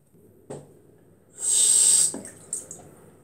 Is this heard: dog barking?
no